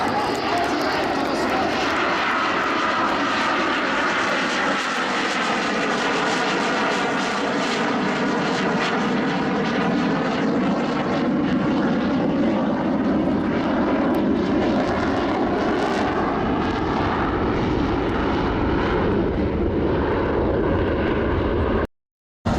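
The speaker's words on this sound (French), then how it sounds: "le Rafale sur le display 2023 en direct" Dassault Rafale jet fighter performing an air show display at an air base open day, its engines roaring loud and continuous for the whole stretch with a shifting, swelling tone as it manoeuvres overhead, ending abruptly.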